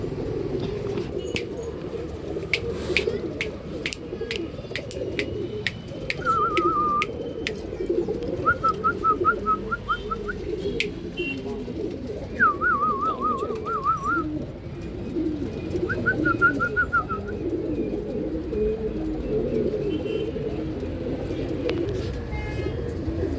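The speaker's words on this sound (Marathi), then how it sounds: "वस्ताद ही कलरफुल कबूतर आहेत." Colourful pet pigeons coo in a loft, several soft rolling coos coming in short bursts against steady background noise and occasional sharp clicks.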